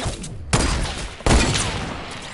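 Two loud bursts of gunfire in a squads shooting video game, each a sudden blast with a long ringing tail, close and dominant with no talk over them.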